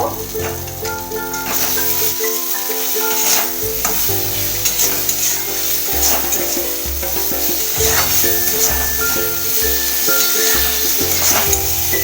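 Spices with turmeric being sautéed for a khoira fish curry with thin eggplant gravy, loud steady sizzling in the pan with repeated stirring scrapes throughout, up close and without speech.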